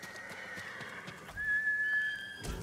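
Horse neighing in the video game Ghost of Tsushima, a clear, fairly loud whinny that rises in the second half over soft background sound, with a faint clip-clop near the end.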